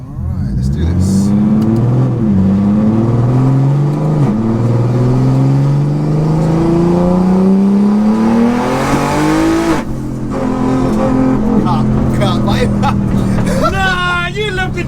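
A 1400 bhp BMW street-legal race car launches hard, its engine screaming upward through repeated rising revs with brief gear-change dips, loud and close, with people talking around it.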